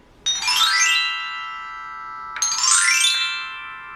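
Chimes on a Ludwig and Mendini bell kit struck with mallets give two bright shimmering strikes about two seconds apart, each one ringing and slowly fading.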